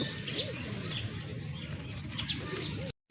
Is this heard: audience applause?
no